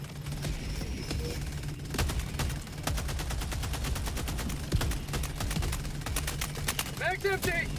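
Sustained bursts of gunfire in Helldivers 2, with sharp cracks arriving in rapid clusters over a constant low hum, the firing dense and close, with a few brief in-game voice sounds near the end.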